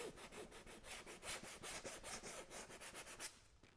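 Sandpaper is rubbed over the edges of a handmade shield prop in quick, even back-and-forth strokes. The gritty scraping is close, steady and rhythmic, then stops near the end, with no voices.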